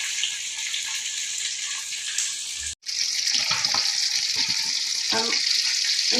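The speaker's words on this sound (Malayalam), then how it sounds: "വലിയ മീനായതുകൊണ്ട് ഒരു മീനെ ഇതിൽ വറുത്തെടുക്കാൻ പറ്റും" A large fish frying in oil over a low flame, a steady dense sizzle that briefly cuts out, then resumes with faint clinks and stirring noises, close and continuous.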